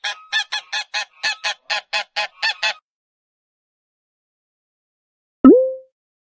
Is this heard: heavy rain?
no